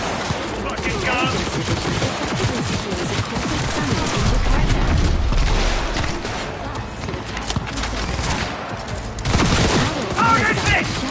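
Heavy gunfire in the video game Cyberpunk 2077, dense bursts of automatic fire and booming shots rattling almost nonstop at close range, mixed with game effects and occasional voices.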